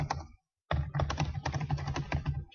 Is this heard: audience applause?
no